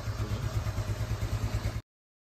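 A bored-up Yamaha Nouvo motorbike engine, taken out to about 148cc, runs at a steady idle with a close, low, throbbing pulse and light clatter, then cuts off abruptly.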